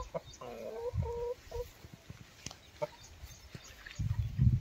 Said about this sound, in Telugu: ఇగో ఇదే మా పుంజు.